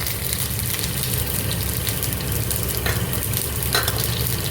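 Mustard seeds, cumin and about ten garlic cloves frying in hot oil for curd rice, a dense, steady close sizzle with faint crackles and a stirring scrape, no talking.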